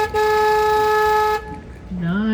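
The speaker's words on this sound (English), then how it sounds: "That is my favorite part of the tour. Honking the horn." Horn on an electric tour boat blasts one long, loud, steady honk, then cuts off, followed by a person speaking close by.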